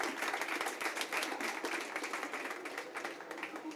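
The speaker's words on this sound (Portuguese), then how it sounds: "peço uma salva de palmas" Audience applause for a guest at a book talk event, steady close clapping from a modest crowd, fading slightly toward the end.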